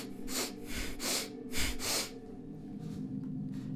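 A voice imitates monster heads sniffing: a series of close, breathy snorts and sharp inhaled sniffs in quick bursts, pausing briefly, then fainter sniffs trailing off.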